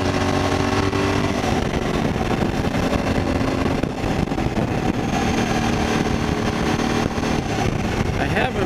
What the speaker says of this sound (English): exhaust that you can actually hear, sounds like something